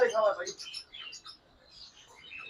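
Sun conure breeder pair chirping, a few bright bird calls near the start, then fainter scattered tweets.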